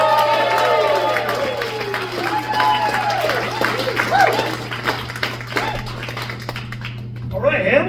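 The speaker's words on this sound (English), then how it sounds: "please give a warm round of applause for your first meeting tonight" A comedy club crowd in Hamilton welcomes comedian Jamie Hoffing with loud, steady clapping, whoops and cheering voices that carry throughout, over a constant low electrical hum.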